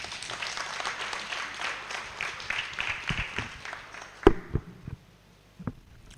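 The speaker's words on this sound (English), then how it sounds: "Please give her another round of applause" Audience applause at a food sustainability launch event, a moderate burst of clapping that thins out and fades after about four seconds, leaving a few scattered claps and faint footsteps.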